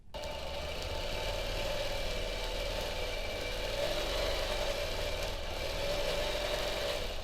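A free-motion quilting machine stitches a feathered heart wreath, giving a steady, close mechanical hum with a constant motor whine that runs unbroken for several seconds with no talking.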